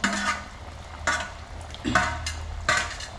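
Local sardines go into a pot of boiling fish curry paste with tomato and green chilli. Several separate scraping stirs and splashes land about once a second over a low simmering sizzle.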